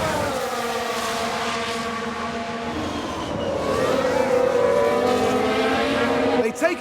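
Formula One cars racing around a track in F1 Manager 2022, with a Mercedes muscling through to gain a position: a steady, loud engine drone with rising whine, getting louder toward the end, under a commentator's voice.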